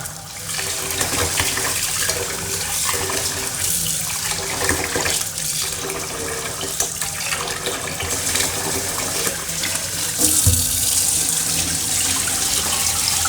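Tap water gushes steadily into a basin to wash new sticky rice before steaming, a loud continuous splashing rush that holds for the whole stretch with no talking.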